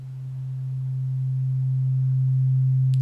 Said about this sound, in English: And what we've got there is a sine wave